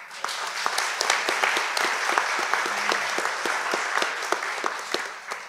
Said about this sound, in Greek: Και λίγο είναι αυτό το χειροκρότημα.